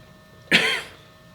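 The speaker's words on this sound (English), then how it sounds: "Don't cough anywhere near" A single sharp cough bursts out, close and fairly loud, lasting under half a second before fading into quiet room noise.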